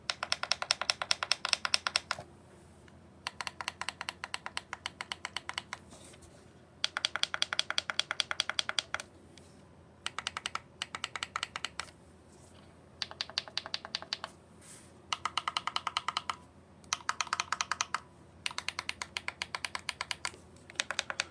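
Bursts of rapid, crisp button clicks from Simagic GT Neo and FX-C sim racing wheels in quick clusters, separated by short pauses, close up and fairly loud with no talking.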